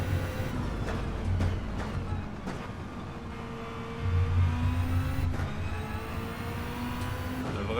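A Toyota GT-One race car in Gran Turismo 7 accelerates, its engine note whining and sweeping upward in pitch with a steady, fairly loud drone, easing briefly before rising again.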